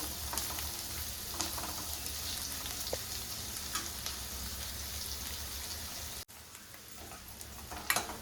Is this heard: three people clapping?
no